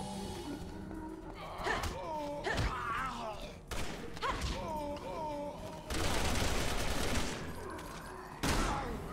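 Gunfire in Resident Evil 6 comes as scattered bursts of shots and thuds amid game sounds and effects, with a voice talking intermittently over the action.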